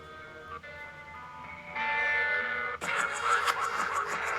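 Psychedelic hip hop track playing as a recorded excerpt, with a hazy, shimmering instrumental that builds to a fuller, brighter section partway through, fairly quiet throughout.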